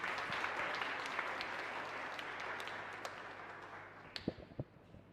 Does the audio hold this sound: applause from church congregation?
yes